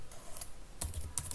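Someone types a short command on a computer keyboard, giving a few quick, crisp key clicks in two small bursts, close and fairly quiet.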